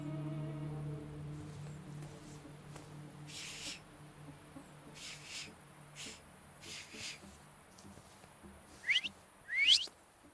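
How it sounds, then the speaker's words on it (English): Two short rising whistles from The Thaumaturge video game, close and fairly loud near the end, following quiet ambience with faint taps and low hum. "So, have you mastered whistling?"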